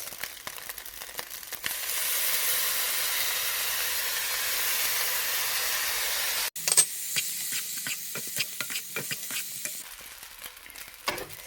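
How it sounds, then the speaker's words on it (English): A pan sizzles steadily as ingredients are stirred together with sauce, a loud hiss of frying that suddenly drops after a sharp clatter, followed by scraping and stirring clicks over a softer sizzle. "So I'm mixing everything together. I'm gonna add my sauce in it."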